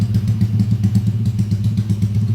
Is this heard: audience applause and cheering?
no